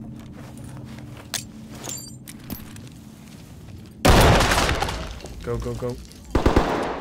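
Gunfire in the tactical shooter Ready Or Not, with a sudden loud burst of rapid shots bursting in midway after quieter footsteps and radio chatter, then more sharp shots near the end, while players shout.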